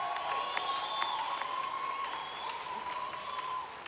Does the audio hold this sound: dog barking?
no